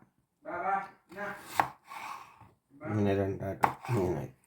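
A knife chops home-grown green tomatoes on a board, giving a few sharp, close knocks among stretches of someone talking.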